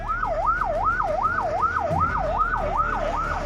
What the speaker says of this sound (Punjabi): ਕਿਸਾਨਾਂ ਵੱਲੋਂ ਐਂਬੂਲੈਂਸ ਨੂੰ ਰਸਤਾ ਦਿੱਤਾ ਗਿਆ।